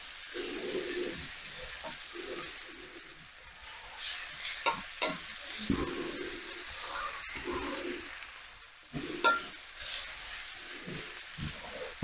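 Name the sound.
green onion cooking and being stirred in a pan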